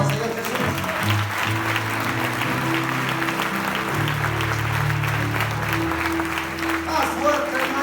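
A church congregation applauds loudly and continuously while low sustained musical tones sound beneath the dense clapping throughout.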